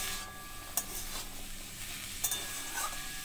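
Carrots sizzle quietly in a pan while a spoon scrapes and stirs them, with two sharp clinks against the pan. The sizzle is a low, steady hiss and no one speaks.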